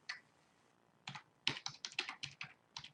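A brief tap of a single key, a pause, then a quick run of about a dozen crisp keystrokes on a computer keyboard, close and clear against a quiet room.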